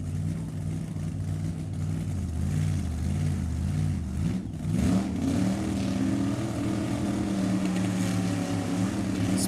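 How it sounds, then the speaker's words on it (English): A twin-turbo big-block Chevy Nova drag car idles loud and rough at the track, then its engine climbs in a rising rev that holds at a high, sustained roar. "That's not a 66 Chevelle, that's a Nova. I'm assuming a twin turbo, big block under the hood."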